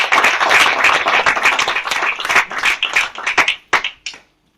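A burst of applause from a church congregation, steady clapping that thins into a few scattered claps and then stops.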